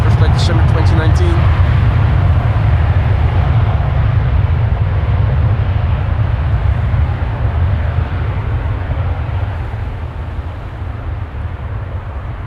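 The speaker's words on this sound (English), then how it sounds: "And this is KLM flight 749 to Bogota. That's a 787-10 Dreamliner." A KLM Boeing 787-10 Dreamliner departs Amsterdam Schiphol with a deep, sustained engine rumble that stays loud and fades only slightly toward the end, with talk heard at the start.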